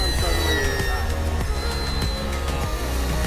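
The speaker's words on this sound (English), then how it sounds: "Okay, low pass over runway." A loud RC model airplane engine, an FMS Cessna, drones steadily close by in a low pass over a runway with a buzzing whine, under a constant rumble of wind and background noise.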